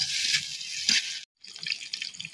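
Sliced green chilies and chopped onion fry in hot soybean oil in a pan, a close, bright crackling sizzle that drops out briefly and then returns.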